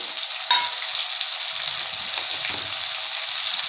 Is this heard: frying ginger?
yes